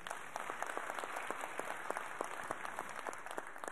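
Faint, fairly distant audience applause at a reception honouring regional finalists of a trades competition, steady scattered clapping with distinct individual claps throughout and no talk.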